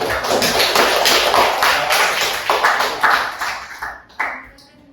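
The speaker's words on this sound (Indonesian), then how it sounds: "Oke, kita beri aplaus untuk" An audience applauds at an Islamic teacher-training session at IAIN Ambon: a dense burst of clapping fills the room, stays steady for several seconds and then thins into a few scattered claps before fading.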